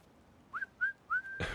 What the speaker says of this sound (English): whistling isn't helping